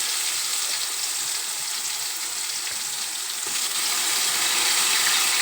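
Green chilli paste frying in hot oil with mustard seeds, cumin, garlic and curry leaves for cabbage palya, giving a steady, dense sizzle that holds close and even throughout.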